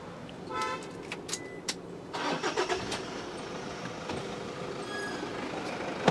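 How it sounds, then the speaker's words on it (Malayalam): A 2014 Toyota Fortuner automatic with a good battery starts at once, a brief cranking burst catching into a quiet idle, preceded by a few faint clicks and short chirps. "ഞാൻ ഏതായാലും ഒന്ന് വണ്ടി സ്റ്റാർട്ടാക്കി കാണിച്ചു തരാം"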